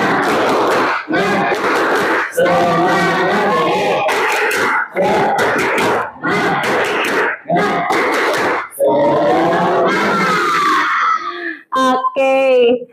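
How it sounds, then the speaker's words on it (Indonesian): A class of vocational high school students in a tenth-grade math lesson does a rhythmic spirit clap and chant: loud group shouts and claps in repeated bursts separated by short pauses, ending in a flurry of fast claps. "Oke, coba tepuk semangat."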